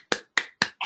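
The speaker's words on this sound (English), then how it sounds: "but I'm applauding" One person clapping hands during an online class presentation: four crisp, evenly spaced claps in quick succession, close and clear with no talk over them.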